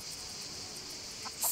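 Chickens cluck on a farm in the video game Everdream Valley, a short faint stretch over a hissing insect-like ambience, with a louder burst of clucking right at the end.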